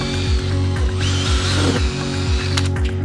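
Makita power drill driving pilot screws through a cabinet, a loud close motor whir with rhythmic pulsing chatter as the bit bites, rising in pitch briefly midway.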